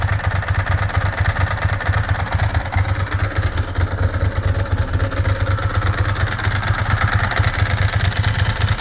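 A 2002 Ducati ST4s motorcycle engine idles close and loud, with a fast, even pulsing beat and a rapid mechanical knocking or ticking running through the steady low rumble.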